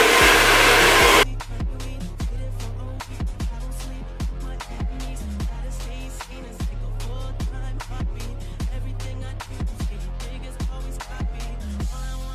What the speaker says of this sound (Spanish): cuando voy a secar, voy secando hacia arriba para crear, o sea, para que, hacer que esto se levante